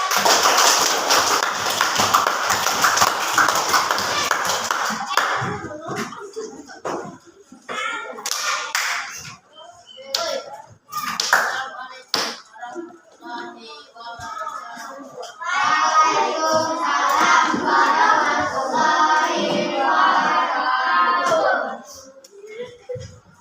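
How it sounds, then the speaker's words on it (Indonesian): A group claps and cheers loudly at first in a classroom during a teaching practice session, then scattered claps and taps follow as children chatter and shout nearby. "Boleh kita tepuk tangan untuk kelompok di depan."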